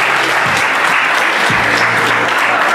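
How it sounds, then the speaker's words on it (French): Wedding guests applaud a performer at a Franco-Guinean wedding reception in Amiens, a dense, continuous wash of clapping filling the room from start to finish. "on peut encore l'applaudir, s'il vous plaît"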